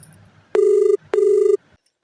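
A telephone rings twice over a speakerphone, two loud, steady electronic ring bursts about half a second each, separated by a short pause, with no talking.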